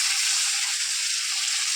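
Cut potatoes frying in hot oil with fenugreek and green chillies, a steady close sizzle and hiss that holds even and unbroken throughout, with no voices.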